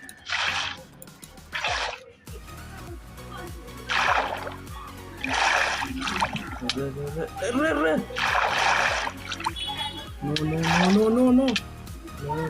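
Minecraft water splashes and drips come in several bursts, mixed with chiming effects and game music, while a person talks over them.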